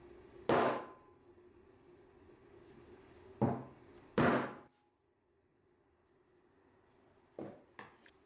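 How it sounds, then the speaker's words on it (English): A hammer strikes a DeWalt tool armature to seat it: two sharp knocks, then a pair close together near the middle, then two lighter taps at the end, with quiet gaps between them and no talking. "Continue striking and checking until the armature is fully seated."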